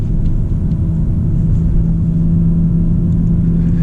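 BMW M340i xDrive all-wheel-drive sedan heard while driving: a loud, steady low engine and road rumble with a faint tonal drone, heard alone without talk.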